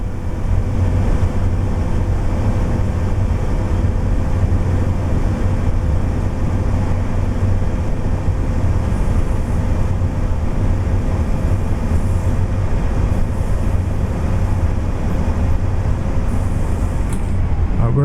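A train rumbles steadily along the track in Train Sim World 4, driven with a RailDriver controller: a continuous low drone with a faint high tone, alone and loud throughout.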